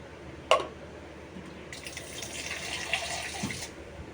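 Water pours steadily into a pot of simmering fish curry for a couple of seconds, preceded by a sharp clink of a utensil, with faint splashing afterward.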